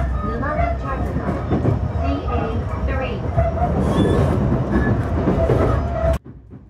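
A Tokaido Line train pulling into Numazu station, its rumbling, rattling wheels and car noise loud and close for several seconds with a voice talking over it, then cutting off abruptly.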